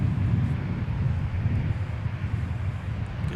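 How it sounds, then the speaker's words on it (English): A United airliner departing Minneapolis airport rumbles as a steady low roar heard from a distance, buffeted by wind noise throughout, with no voices. "Frontier 4616 from Denver is having to hold short for a departing United aircraft to Denver"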